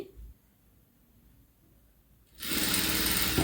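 Near the end, a sewing machine starts up abruptly and runs loud and steady while stitching a sleeve, after a stretch of near silence.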